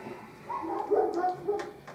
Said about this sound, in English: There goes next door's dog.